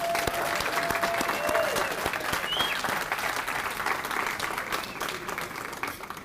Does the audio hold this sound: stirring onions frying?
no